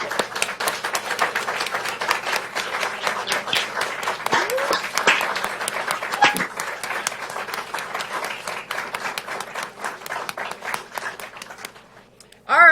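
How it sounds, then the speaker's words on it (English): An audience at a surgery department graduation applauds for the graduates, a sustained, dense wash of clapping that holds steady before fading at the end. "I'd like our graduates, all 16, to stand up for a round of applause and a nice little photo."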